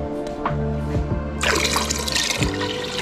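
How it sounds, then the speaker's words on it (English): Tap water pours into a large container to make a brine for fermenting reaper peppers, a bright splashing fill with gurgles and a strong surge partway through, close and alone without talk. "20 cups of water I just put in there"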